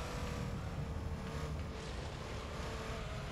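Car engine in the racing video game Gran Turismo 3, a steady, loud, continuous engine roar with little change, no talking heard.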